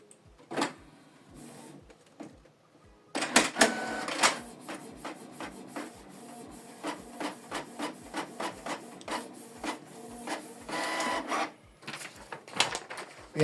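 A Canon PIXMA TS3350 inkjet printer prints a test page in rhythmic mechanical bursts, rapid repeated clicks and whirring passes of the print head, close by, with a brief pause near the start.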